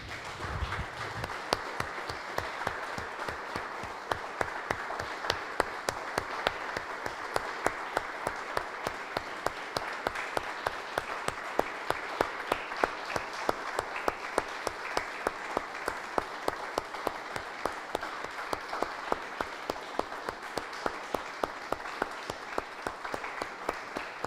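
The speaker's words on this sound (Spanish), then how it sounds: "Damos un aplauso, hermanos, al Señor." A church congregation at a Spanish-language Christian service claps together in steady, rhythmic applause. It carries on evenly for over twenty seconds with no talking over it.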